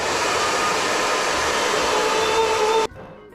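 A handheld hair dryer blows a steady, loud whoosh with a faint whine across a washed hairbrush, running continuously for nearly three seconds before cutting off abruptly.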